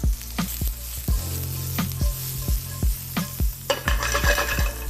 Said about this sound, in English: Give that a nice saute